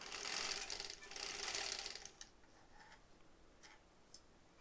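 A sewing machine stitching fabric for a quilt block whirs with a fast mechanical rattle for about two seconds, pauses briefly, then runs again before stopping, leaving faint ticks in a quiet room.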